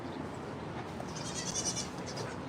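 A couple of goats bleating on a farm, a faint high wavering cry rising midway over a low steady background hum, somewhat distant.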